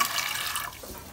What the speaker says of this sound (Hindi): इसको पानी डाल दिया तो ताकि ये कुछ ना निकल जाए